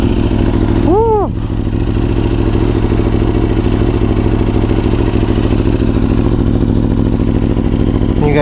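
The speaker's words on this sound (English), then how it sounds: "I don't know who needs a louder bike than this. It's already pretty damn loud too." A loud superbike engine idles steadily and close, its deep throbbing drone running the whole time with a brief rising rev near the start.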